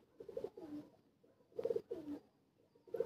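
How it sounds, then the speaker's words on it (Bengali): A prized pet pigeon coos close by, its soft, throaty calls coming in three short rolling bursts separated by quiet pauses. "এটা হচ্ছে একটা চোখের পায়রা, এটা ওনার বাড়ির খুব শখের পায়রা।"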